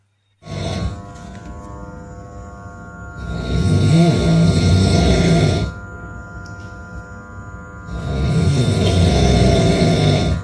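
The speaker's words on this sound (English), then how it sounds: "I think I hear snoring" A person lying on the floor snores loudly and close, with two long rasping inhalations separated by quieter breathing and no speech.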